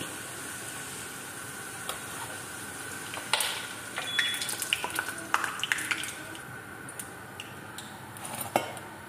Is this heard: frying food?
yes